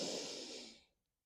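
One long, close breath drawn during a yoga hip-loosening exercise, soft and airy, fading out after about a second into silence.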